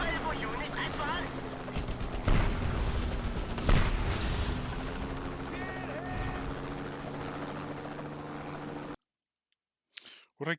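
Helicopter in a video game, a steady rotor drone layered with dense clicking and gunfire-like bursts that runs loud and continuous for about nine seconds, then cuts out to near silence before a few brief sounds at the end.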